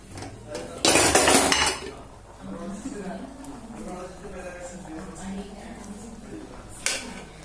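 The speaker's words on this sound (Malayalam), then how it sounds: "കുക്കർ തുറക്കാം." A pressure cooker with tapioca (cassava) inside is opened with a short, loud burst of metal pot and lid clatter. A person then talks at length over quiet kitchen background.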